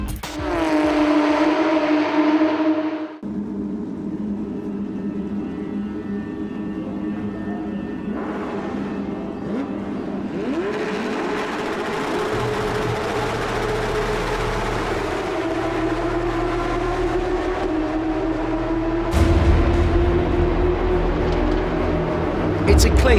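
Porsche GT3 Cup race cars charge through the first corner of a race at Bahrain International Circuit, a dense pack of engines wailing and rising in pitch, loud and continuous with shifting revs, under commentary.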